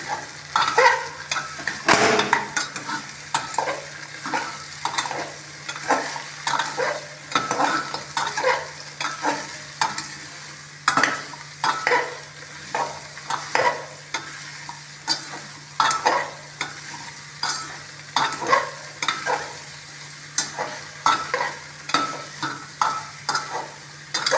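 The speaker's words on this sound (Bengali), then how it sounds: "আমি সব সবজিগুলো দিয়ে দিলাম এখন আমি একটু সবজিগুলো ভাজা ভাজা করে নেব" Chopped bottle gourd, carrot and potato fry in a pan, sizzling steadily while being stirred, with repeated scraping strokes coming at an even rhythm close up and no talking.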